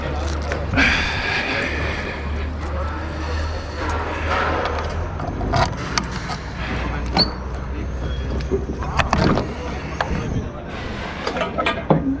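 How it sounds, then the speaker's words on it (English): A power generator on a trucking job site runs with a steady low hum beneath someone talking, with clinks and handling noises scattered through. "So that's a power generator."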